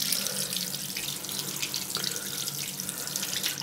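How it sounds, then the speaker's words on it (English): Water pours steadily from a tap into a sink, a loud, continuous hiss and splash that stays even throughout and has no voices over it. "I'm now going to turn the tap off now."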